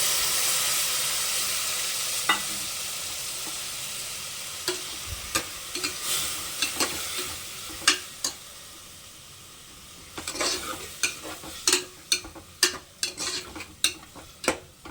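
Coconut milk goes into a pan of frying masala for ghee rice: a hissing sizzle fades gradually, then sharp spoon scrapes and stirring clicks tap irregularly against the pan, close and moderately loud.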